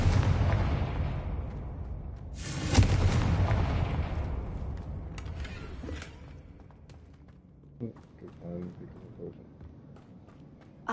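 A Confringo blasting spell from the Hogwarts Legacy video game bursts with a sharp explosive boom, followed by crackling debris and scattered smaller impacts, while a voice speaks over the opening moments.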